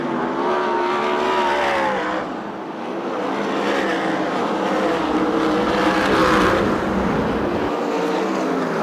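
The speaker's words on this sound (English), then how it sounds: "Herman Sater's passed a few cars" USAC/CRA sprint cars race at Perris, California, their engines roaring loudly as they pass in waves with rising and falling pitch, the sound swelling and fading continuously without any voices.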